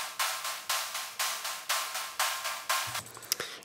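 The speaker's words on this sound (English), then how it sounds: "this is how I usually do my sort of like a noise wave in the background." Background noise wave in a drum production: rhythmic bursts of bright hiss swelling and decaying in a steady pulsing pattern, about two per second, with faint low drum thumps underneath near the end.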